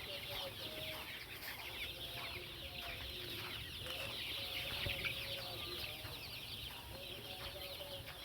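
Chickens cluck steadily throughout, several birds overlapping in a busy poultry-house din with a constant hiss of background noise.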